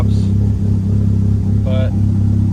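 A 1997 Mitsubishi Eclipse GSX engine idles with a steady low rumble that dips as the throttle is released, heard close up with a brief voice over it.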